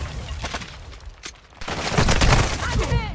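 Gunfire in the Modern Warfare 2 game: a few sharp shots early, then a dense, loud burst of rapid fire with explosive impacts, close and harsh.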